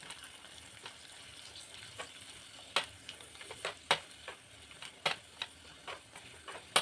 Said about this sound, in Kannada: ಆಮೇಲೆ ದ್ರಾಕ್ಷಿ ಹಾಕ್ಕೊತಾ ಇದ್ದೀನಿ. ನೋಡಿ, ಲೈಟ್ ಬ್ರೌನ್ ಆಗಿ ಹುರ್ಕೋಬೇಕು.